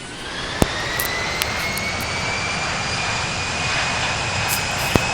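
A steady, loud aircraft engine drone from the Infinite Flight simulator, with a rising whine, a few faint clicks, and no talking.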